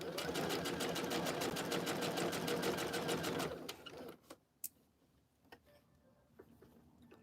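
A sewing machine stitches the facing onto a McCall's jumpsuit in viscose challis, running in a steady rapid rhythm for about three and a half seconds before stopping, followed by a few faint clicks and handling taps.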